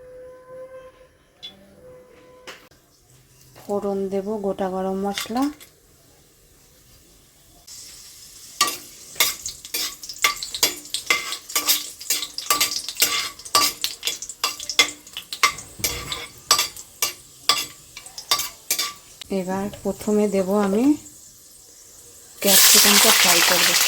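Vegetables sautéed in a little white oil in a kadai with a spatula, giving a steady sizzle broken by rapid scraping and stirring clatter. A voice speaks briefly near the start and again near the end.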